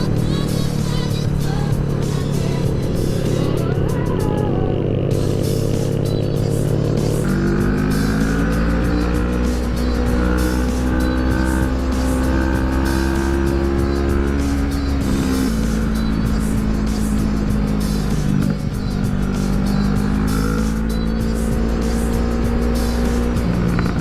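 A loud, revving NK650 sport motorcycle engine close by, pitch climbing through several gear shifts with a steady drone and rising whine as it accelerates.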